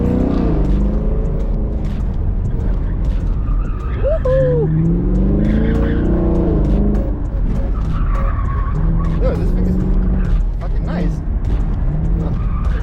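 A Chevrolet Camaro SS launches and slides around an autocross course, engine roaring steadily with tires squealing and skidding throughout, while people talk inside the car over the noise.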